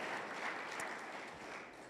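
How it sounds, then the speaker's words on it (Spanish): Church congregation applauding during a sermon, a soft, even wash of many hands clapping heard at a distance, with no talk over it. "Dele un fuerte aplauso al Señor"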